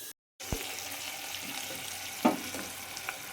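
Dal tempering with curry leaves and asafoetida sizzles softly in a pan, a low steady hiss broken by a couple of faint clinks and a short gap near the start.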